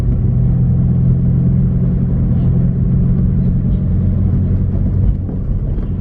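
A car drives through city streets, its steady low engine rumble and road noise continuous and close throughout, dipping slightly near the end.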